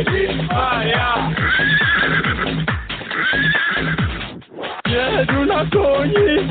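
Horse neighs and whinnies with clip-clop of hooves while being ridden, the calls loud and repeated over a steady rhythm; a voice talks through much of it.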